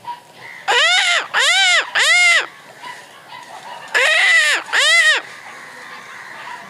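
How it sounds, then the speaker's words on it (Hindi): Crows caw loudly and close by in India, five harsh calls in two bursts, three in quick succession followed by a pause and two more, over a quiet background. "देखिए कौवा लोग और जोर से बोल रहे हैं लोग"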